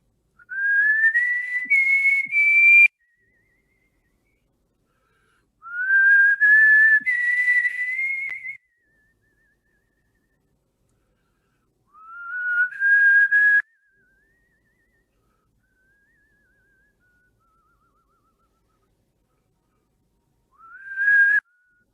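A man whistles a melody in four phrases, each a bright sustained tune with gentle pitch rises, separated by pauses and alone without talk.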